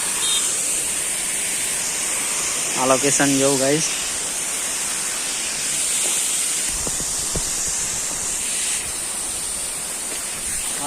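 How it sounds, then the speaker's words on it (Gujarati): The waterfall at Shiv Ghat near Ahwa roars as a steady broad hiss throughout, while someone speaks briefly over it. "અહીંયા છે ધોધ"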